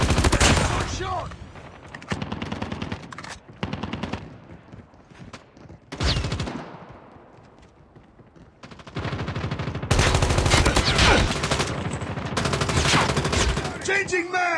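Automatic weapons fire rattles in the video game Call of Duty Mobile, with dense loud bursts, brief pauses and heavy volleys returning, mixed with game voice callouts.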